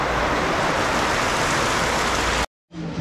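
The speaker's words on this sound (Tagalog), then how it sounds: "So, malakas pa rin yung ulan." Heavy rain pours steadily as a dense, loud hiss close by during a catering job in Bamban, Tarlac, then cuts out abruptly near the end before briefly returning.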